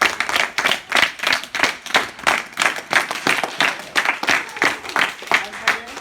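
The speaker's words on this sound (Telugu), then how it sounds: "ప్రతి ఒక్కరు కూడా వాళ్ళందరూ క్లాప్స్ కొట్టండి." Students at a Republic Day awareness class at an academy clap together in steady, rhythmic bursts, loud and close, for the whole stretch.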